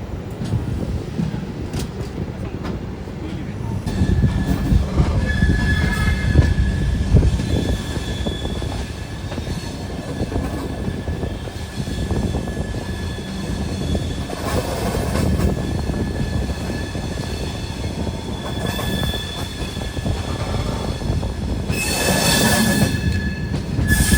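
A train at the Bengaluru SMVT terminal railway station rumbles loud and close for the whole stretch, its wheels clattering over rails with high squeals rising and fading, and there is no speech.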